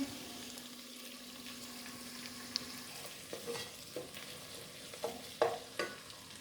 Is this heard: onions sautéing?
yes